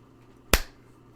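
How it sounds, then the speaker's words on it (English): A single sharp hand clap, close and fairly loud, in a quiet room with a faint steady hum behind it. "I'm going to clap again"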